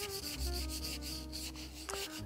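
Japanese kitchen knife being hand-ground to a convex hamaguri bevel on a whetstone, a steady, close rhythmic rubbing and scraping of steel against stone, with strokes repeating about every quarter second and no talking.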